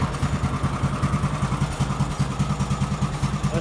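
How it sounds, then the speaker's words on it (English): A racing lawnmower engine with its governor removed idles low and steady, a close, loud, even chugging putter with a rapid regular pulse and mechanical clatter, heard alone throughout. "Okay, I got it idling a little bit lower."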